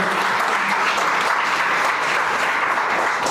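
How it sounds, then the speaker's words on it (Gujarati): Sustained applause from an audience at a homoeopathy seminar, welcoming a speaker, steady dense clapping for the full few seconds with no voices over it. "ફરીથી એકવાર જોરદાર તાળીઓથી આપણે આ નિશાંતભાઈને વધાવીએ."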